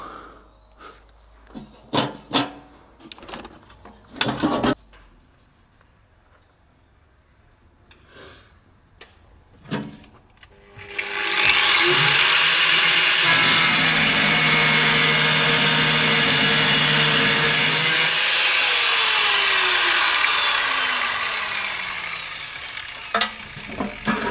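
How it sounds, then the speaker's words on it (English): A power grinder cuts through a stuck ball-cock fitting. It winds up abruptly and runs loud and steady for about ten seconds, then spins down. Scattered knocks and handling clatter come before and after. "the only way I can do that really is to grind it off"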